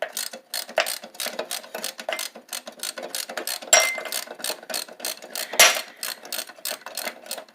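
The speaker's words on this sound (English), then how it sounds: "I'm gonna pop that on my wrench. I'm gonna loosen it." A ratcheting wrench working on a bolt of a cheap push mower, giving a quick run of close, crisp clicks in an even rhythm with a couple of louder metallic clacks.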